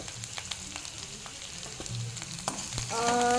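Masala with turmeric sautéing in a pan, a soft continuous sizzle broken by occasional light scrapes, growing louder toward the end.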